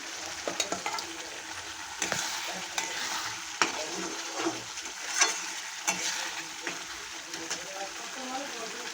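Goat meat goes into a pan of frying spice masala and is stirred, a steady close sizzle with scraping strokes and small clinks, while a voice talks over it.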